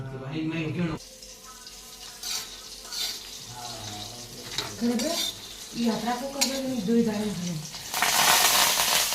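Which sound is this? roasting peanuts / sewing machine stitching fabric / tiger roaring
roasting peanuts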